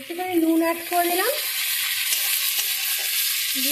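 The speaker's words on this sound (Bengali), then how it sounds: "দিয়ে পেঁয়াজটাকে ভালো করে ফ্রাই করবো।" Chopped onions with a pinch of salt sizzle in plenty of hot oil left from earlier frying, a steady close crackle throughout, with a brief tonal hum near the start.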